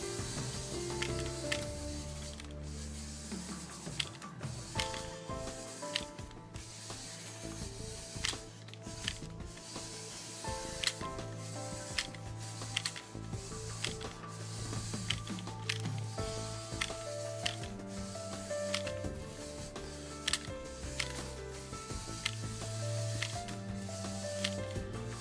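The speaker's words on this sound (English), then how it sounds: "Let's do a quick driving demonstration of this thing." A LEGO Technic RC dune buggy drives over a carpet obstacle course, its small motor whirring with repeated clattering bumps and rattles of plastic parts throughout.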